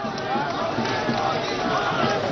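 Dense, noisy crowd packed around Modi's nomination rally in Kashi, a continuous roar of many voices and cheering that stays loud and steady throughout with no pauses.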